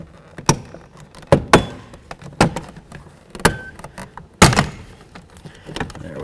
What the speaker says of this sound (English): I'm going to carefully try to pry this away from the door panel.